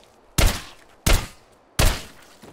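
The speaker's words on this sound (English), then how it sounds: "Ah, the relaxing sound of periodic distant gunfire." Three evenly spaced, muffled gunshots boom in the distance in the video game Sosig Breach & Clear, each a dull thud with a rolling tail, with quiet between them.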